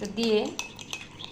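A spoon clinks against a bowl as spices and tasty salt are stirred into a cup of milk for beef kacchi biryani, a few quick close metallic taps alongside a brief spoken word.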